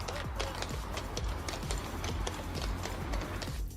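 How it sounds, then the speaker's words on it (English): A large draft horse's hooves clip-clop in a steady, rapid rhythm on hard ground, close and continuous, with faint background noise and no clear talk. "rather large draft horse doing the job that it was supposed to do"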